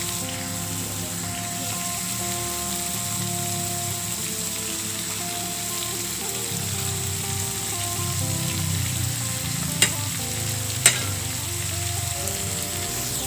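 Tofu sizzles and fries in a pan with cooked spices for a cassava leaf curry, a continuous crackling hiss with occasional stirring scrapes and two sharp utensil taps near the end.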